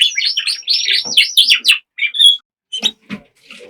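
Several caged male border canaries chirp and twitter in quick, bright bursts, close by, with short pauses between phrases.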